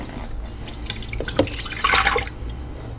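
French onion soup pours into a pressure cooker, a wet splashing and dribbling sound that swells briefly toward the end, close and fairly loud with no talking.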